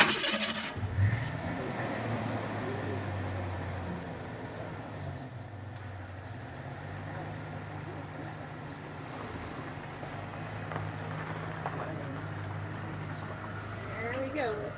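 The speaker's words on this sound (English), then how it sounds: "This part's really exciting as I move the Ford Ranger." A 1989 Ford Ranger pickup truck runs with a low, steady engine rumble as it moves off, heard at moderate level under talking and faint outdoor bird sounds.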